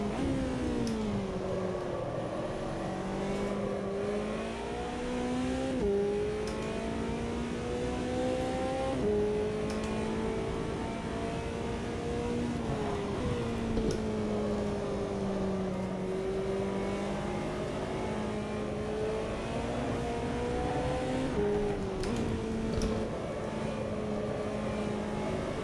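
A McLaren GT4 race car in Automobilista 2 at Spielberg revs steadily through repeated gear changes. The engine note rises and drops again and again under a constant, even drone with turbo whine.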